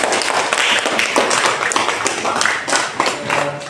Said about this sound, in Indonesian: Beri aplaus semua